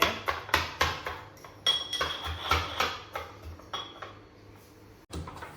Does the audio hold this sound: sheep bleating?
no